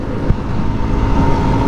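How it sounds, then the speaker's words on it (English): Steady low roaring wind buffeting at speed on a Fantic Casa E 250 scooter, a dense continuous rush with a brief thump near the start, loud and close with no talking. "The wind buffeting hits you and this thing is like a sail"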